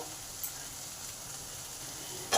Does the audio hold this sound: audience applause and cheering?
no